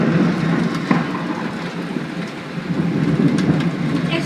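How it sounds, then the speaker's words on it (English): Heavy rain pours steadily during a thunderstorm, a dense continuous hiss with faint distant rumbles underneath and no voices. "I hope you enjoyed this thunderstorm"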